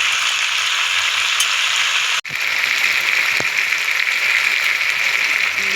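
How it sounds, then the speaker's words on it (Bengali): Chicken meat sautés in a pan with a loud, continuous hiss and crackle that holds steady throughout, interrupted only by one brief cut near the middle. "মাংসটা ভালো করে কষা হচ্ছে"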